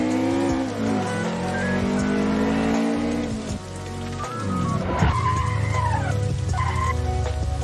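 A Toyota AE86 Trueno drifts on a mountain pass, its engine revving high with rising and falling pitch, tires skidding and squealing as the rear steps out, loud and close throughout.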